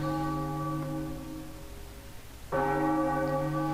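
A bell in The Legend of Zelda: The Wind Waker rings with a bright, sustained metallic tone that fades, then is struck again more loudly and rings on.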